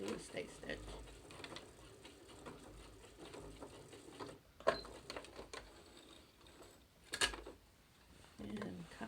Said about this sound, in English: I'm gonna do a stay stitch.